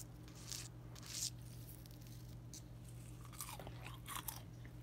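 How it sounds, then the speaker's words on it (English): Homemade fries are bitten and chewed close to the mic, giving quiet, crisp crunches in irregular bursts over a soft background hum. "Just listen to that crunch."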